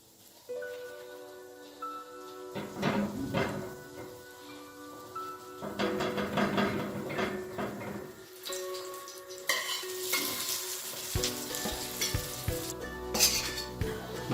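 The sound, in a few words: lachha paratha frying in a pan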